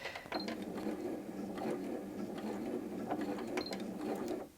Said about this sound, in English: you can see that the machine sews at its slowest speed